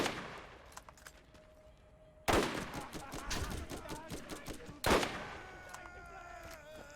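Bursts of rapid gunfire from a gun in the video game Borderlands, two heavy volleys of quick repeated shots with a steady hum underneath and lighter shots between them.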